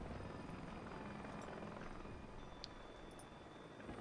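Helicopters in the Regiments video game, a faint continuous rotor rumble and drone with small clicks from the game interface, heard without talk.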